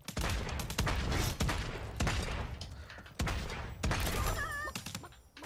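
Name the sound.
gunfire in the video game Realm Royale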